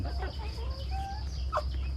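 Chickens at a buffet-style feeding, several birds clucking and calling near and far over a low background rumble, with short squawks breaking through.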